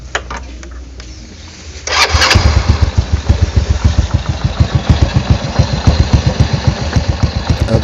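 A motorcycle engine fitted with a new, factory-set carburetor starts up after a quiet moment and settles into a loud, steady idle with a regular throbbing pulse, close to the microphone.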